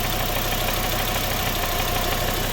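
A 2008 Hummer H3 engine idling roughly, a dense, steady close-up rumble with an uneven ticking beat running through it and no talk.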